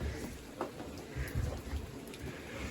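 Steady rain falls around a stormy Appalachian Trail campsite at night, a broad, even patter with a few louder drops close by and no talk.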